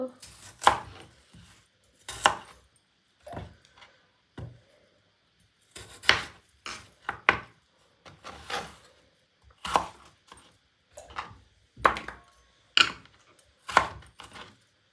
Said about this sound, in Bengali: ছোট ছোট করে এভাবে করে কাটবো আমি পরিষ্কার